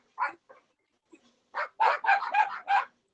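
A dog barks a few times, then a quick run of sharp, close barks in a burst, with short pauses between.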